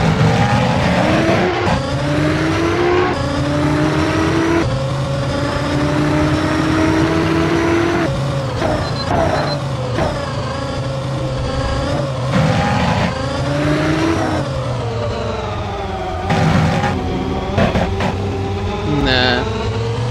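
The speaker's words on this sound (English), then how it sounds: "I keep forgetting F1 cars have like super good brakes." A video-game F1 race car engine screams and revs through gear changes, with tire squeals and skids, loud and continuous, while people talk over it.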